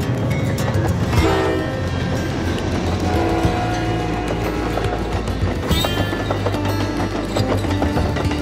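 An HO scale model train runs over a large BNSF-themed layout, a continuous dense rumble and clatter with bright tonal whines and horn-like tones rising throughout, no talking.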